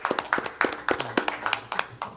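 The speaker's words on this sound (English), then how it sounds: "we should give a round of applause and thank her also" Applause for a senator at a village council meeting in El Portal: a small group clapping close by in a brisk, steady patter of sharp, uneven hand claps, with no voices over it.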